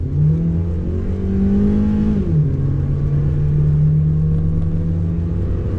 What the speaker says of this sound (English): Okay, another acceleration clip. There we go. Let's get on the gas.